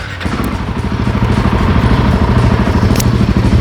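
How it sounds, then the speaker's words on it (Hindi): A Royal Enfield Himalayan 450 motorcycle idling, its exhaust note a loud, steady, close rumble with a fast even pulse that continues throughout without talk. "now let's check out the exhaust note"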